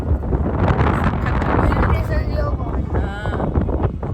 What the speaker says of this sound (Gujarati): ઠંડો પવન છે એકદમ.